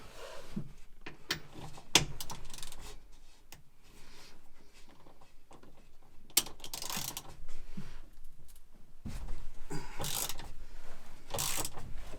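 A hand ratchet works loose the seatbelt bolts inside a car, giving rapid clicking bursts separated by pauses. Occasional metallic clunks and knocks come from close by, and no one speaks.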